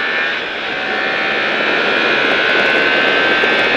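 A motorcycle accelerates on a race track, giving a loud, steady engine roar with wind rush that builds slightly toward the end.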